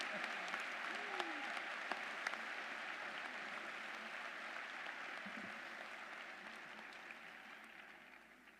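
Commencement ceremony audience applauding in a large hall, a broad sustained wash of clapping that stays steady and slowly fades, heard from a distance.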